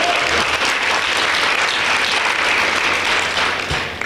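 Audience at a conference morning session breaks into sustained, dense applause that holds loud and even for several seconds before starting to fade.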